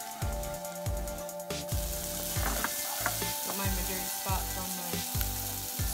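Vegetables sauté in a pan on a stove top, a steady close sizzle broken by a rhythmic series of low utensil scrapes and knocks roughly every half second, with no voices.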